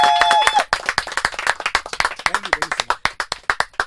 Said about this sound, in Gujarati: એક વાર જોરદાર તાળીઓ સાથે આખે આખી ગેંગ ને યાર